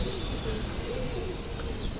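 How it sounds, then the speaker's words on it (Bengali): Pigeons, including young birds kept in a cage on a rooftop, coo softly in a low murmur over steady background noise for a couple of seconds. "এদিকে যে আমাদের সিনিয়র আতিক চাচা, তার কবুতর আছে।"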